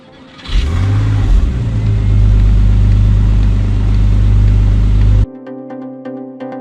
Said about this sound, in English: All right, we got the Boxster moved. Gonna leave it on.